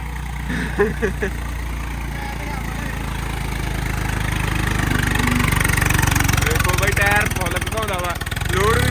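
A tractor engine runs steadily, a rough mid-pitched idle that swells louder over several seconds, with people talking over it.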